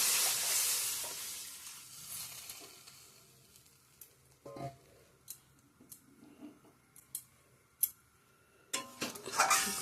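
Water goes into mustard paste frying in a pan for a Bengali fish curry, setting off a brief loud hiss at the start that fades into soft bubbling, with scattered faint clinks and utensil taps afterward.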